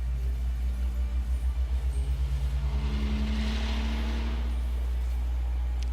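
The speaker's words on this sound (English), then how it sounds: "People and their loud ass vehicles." A loud vehicle passes close by, its low engine rumble throbbing steadily and swelling to a broad whoosh midway before easing off, with no talk over it.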